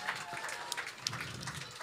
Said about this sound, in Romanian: Aplauze pentru băiatul de la meteo.